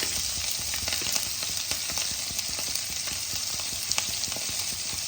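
Green chillies frying in a pan give a steady, close crackling sizzle with faint stirring, continuous and unaccompanied.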